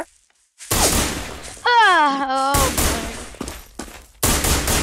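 Gunfire from a Roblox shooter game comes in loud, dense bursts of rapid shots with brief gaps between them, and an excited voice cries out over the shooting.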